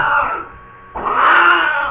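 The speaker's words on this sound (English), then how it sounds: "My cat's really going nuts tonight." A house cat yowls loudly indoors at night in two long, drawn-out wails with a brief dip between them, close to the microphone.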